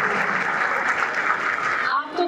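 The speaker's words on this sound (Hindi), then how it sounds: "तालियां बजाइए।" Audience at a Pune poetry gathering (kavi sammelan) claps after a Holi bhajan, a dense steady round of applause that holds loud and close for about two seconds before tapering off.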